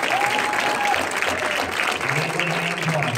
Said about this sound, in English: let's give him a warm round of applause, Abraham Potter.